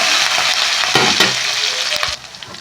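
Coriander, garlic and green chilies frying hard in a pan for sabudana khichdi, a loud dense sizzle with scraping stirs and a couple of sharper knocks before it drops off near the end.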